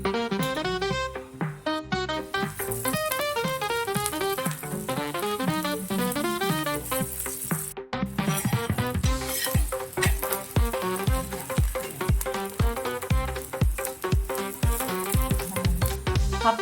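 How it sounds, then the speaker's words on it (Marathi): Methi paratha roasts in oil on a hot tawa, a loud continuous sizzle with brief gaps and soft tapping as it is pressed and turned, no talking. "तव्यावर व्यवस्थित तेल टाकून भाजून घ्यायचे"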